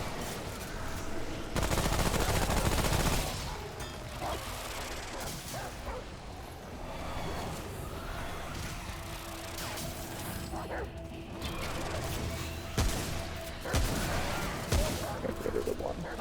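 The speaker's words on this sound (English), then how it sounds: "Elite's gonna start firing at me" Enemy elites open fire in the video game Remnant: From the Ashes on Hell mode, with repeated loud bursts of gunfire and crashing impacts over sixteen seconds, mixed with a dog barking.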